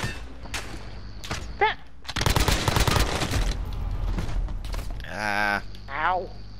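Shotgun blasts and bursts of gunfire ring out in Call of Duty: Modern Warfare custom game play, loud broadband cracks in a dense middle stretch, with a voice and brief whooping game sounds around them.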